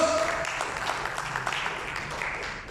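Applause rises from a congregation at a Spanish-language church service, a fairly faint, sustained patter of many hands clapping over a few seconds.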